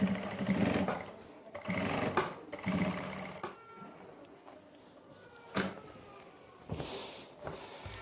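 Short bursts of a sewing machine stitching along a pocket on pants, the whirring runs starting and stopping with quiet handling noises in the gaps.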